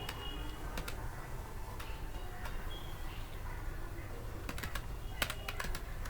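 Typing on a computer keyboard while entering an Excel IF formula, with quick bursts of clicking keys and short pauses between them, fairly close over a quiet room hum.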